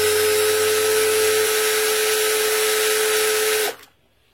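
An 18V Mailtank cordless drill spins at high speed, a loud, steady high-pitched motor whine held close for several seconds before it cuts off abruptly into near silence.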